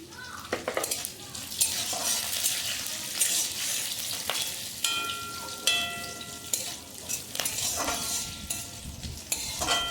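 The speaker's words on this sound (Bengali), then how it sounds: "দিয়ে দিচ্ছি রসুন কুচি, দিয়ে দিচ্ছি লঙ্কা গুঁড়ো," Chopped garlic, chili powder and black cumin seeds fry in a pan of tempering oil, a soft sizzle broken by repeated clinks and scrapes of a spoon stirring against the metal, close and without talk.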